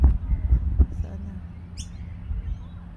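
A single bright bird chirp rises briefly above a low, muffled background rumble with faint handling noise.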